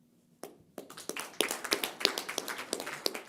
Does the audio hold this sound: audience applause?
yes